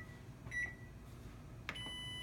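A kitchen microwave oven beeps while its timer is being set, giving two short, clear electronic beeps about a second apart over quiet background noise.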